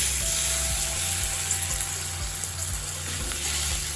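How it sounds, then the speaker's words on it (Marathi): Dabeli masala frying in a kadhai as half a glass of water is poured in, giving a loud, steady hiss and sizzle with a low bubbling undertone throughout, no voices. "यामध्ये आपल्याला अर्धा ग्लास पाणी टाकायचं"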